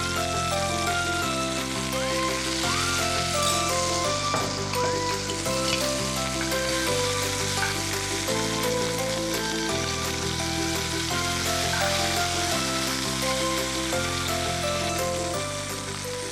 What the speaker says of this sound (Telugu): అలా ఒక్కొక్క సైడ్ స్లోగా కుక్ చేసుకోవాలి మీడియం హీట్లో